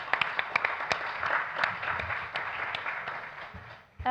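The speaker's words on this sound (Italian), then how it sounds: "vogliamo fare un applauso anche a loro che sono qui con noi fino a stasera" Audience at a conference applauding students, scattered claps at first that build into a brief round of applause, moderately close, then fading out.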